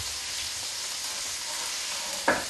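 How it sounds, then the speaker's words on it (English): Chopped whole onion browning in chicken juices in a pan, a steady even sizzle running throughout with a brief louder clatter near the end. "we're going to brown our onions"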